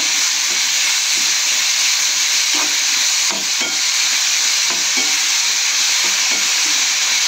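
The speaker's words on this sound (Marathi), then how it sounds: "आता याच्यामध्ये मिरची पेस्ट टाकून घेऊया। हे सर्व व्यवस्थित परतून घ्यायचे।" Chili paste sautéing in hot oil with garlic, cumin and mustard seeds in a pan, giving a loud, steady sizzle and hiss throughout, broken by occasional scraping stirs.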